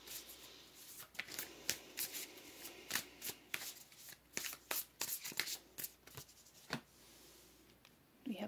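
Tarot cards being shuffled by hand, a quiet run of soft riffling bursts and flicks in an uneven rhythm, close and alone with no talking.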